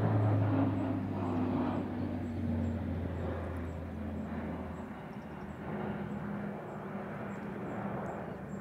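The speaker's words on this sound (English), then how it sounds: "There's a plane going over and it's nearly touching the ground." A low-flying fixed-wing airplane passes overhead beside a carp fishing lake during a match, a steady engine drone that is loudest at the start and then settles into a constant rumble, with no talk.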